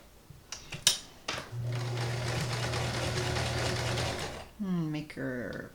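A vintage Kenmore 158.19311 sewing machine runs a smock stitch, humming steadily for a few seconds after some clicks and handling, then stops as a person starts speaking.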